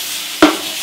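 Pieces of pork and sliced onion fry in a pan for a Greek pork tiganiá, giving a steady, close sizzling hiss broken midway by one sharp clack of a utensil against the pan.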